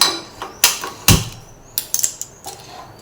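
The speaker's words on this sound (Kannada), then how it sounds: "ಗ್ಯಾಸನ್ನು ಆನ್ ಮಾಡ್ಕೊತಾ ಇದ್ದೀನಿ" A gas stove is switched on in a home kitchen while paneer keema is being cooked, giving a handful of sharp, close mechanical clicks and ratchety knob turns scattered over three seconds.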